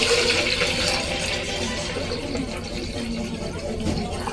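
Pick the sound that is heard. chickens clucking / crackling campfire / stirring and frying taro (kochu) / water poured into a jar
water poured into a jar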